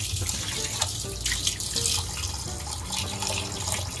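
Water runs steadily from a tap, splashing and gurgling into a sink.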